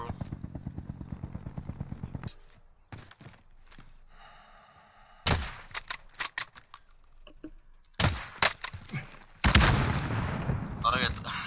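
Sniper rifle shots in a video game, sharp loud cracks spaced apart among clicks and clatter, with players talking over the action.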